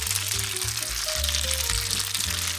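Parmesan cheese is stirred into bowtie pasta in a buttery garlic pan, giving a soft, steady sizzle and faint stirring beneath louder background music.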